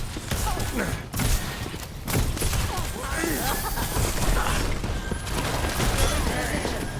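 Rapid gunfire from an Overwatch match, dense bursts of shots and impacts rattling on continuously alongside game effects and a voice talking over them.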